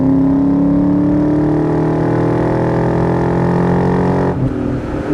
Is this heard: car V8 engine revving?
yes